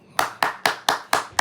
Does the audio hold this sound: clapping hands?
yes